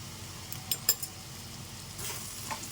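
Ground spices such as garam masala, coriander and cumin powder fry in a hot pan, giving a steady soft sizzle with a few brief scraping stirs and light clinks near the start.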